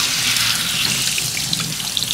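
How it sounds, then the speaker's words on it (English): Water sprays steadily onto dirty aftermarket RK intake filters for a BMW X5M, rinsing them from the inside out; a continuous close hiss and splatter with no talking. "now we're rinsing from the inside out. Already a bunch of nasty, dirty water."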